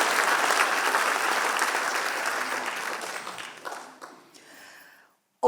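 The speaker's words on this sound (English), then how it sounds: "But that should not stop us from applauding loudly once more for Baban so that their work is celebrated." An audience applauds at a wildlife award ceremony, dense sustained clapping that gradually thins and fades to silence before a sudden sound at the very end.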